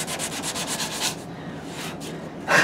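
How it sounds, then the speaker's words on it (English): Coarse 60 grit sandpaper rubs against a wooden guitar neck being shaped, a rapid run of close rhythmic rasping strokes that slows into longer scrapes, with a final louder stroke at the end. "60 grit is a material removing aggressive piece of sandpaper"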